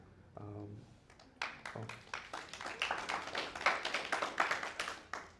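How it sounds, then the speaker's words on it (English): An audience at a talk on Black Birders Week breaks into applause: after a brief voice and a few taps, scattered claps build into a moderate, uneven round that swells toward the end. "I wasn't expecting applause so soon"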